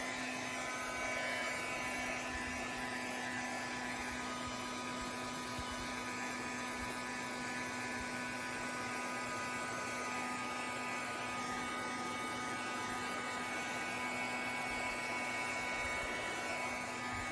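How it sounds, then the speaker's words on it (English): A heat gun blows air with a steady, loud whir and a constant electric hum, running without pause close to the microphone. "if we go in and dry it with our heat gun"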